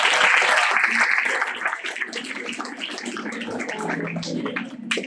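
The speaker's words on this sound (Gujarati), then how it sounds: "બધાને તાળીઓથી વધાવવા કહીશ" An audience at a seminar hall applauds to welcome a speaker, a dense, even patter of many hands clapping that stays loud and steady before tapering slightly near the end.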